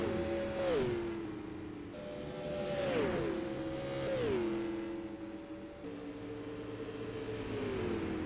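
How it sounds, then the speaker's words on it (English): A non-wing supermodified race car roars down the front stretch of an oval track, its engine pitch repeatedly rising and dropping through gear changes as it passes, loud and continuous with the sound of other cars behind. "Here comes Keyser hustling down the front stretch and across the stripe"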